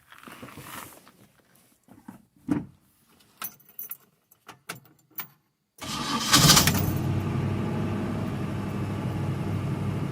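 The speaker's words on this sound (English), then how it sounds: "start the car up." An old car that has sat unused for three years: keys jangle and rattle in short clusters, then the engine cranks and catches, settling into a steady, loud, rumbling idle close by.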